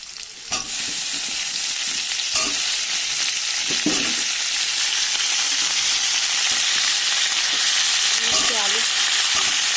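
Cauliflower sizzles in fish-frying oil with cumin seeds and onion, a constant bright crackle with occasional utensil scrapes and knocks against the pan.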